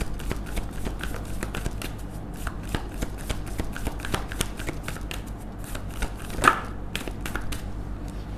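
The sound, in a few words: tarot cards being shuffled and drawn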